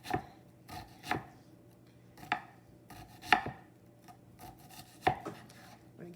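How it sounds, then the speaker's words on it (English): A knife slicing vegetables thinly on a cutting board for quiche filling, five or six crisp chops at uneven intervals against a quiet background. "I use my finger here to guide the blade of the knife so I can make really thin"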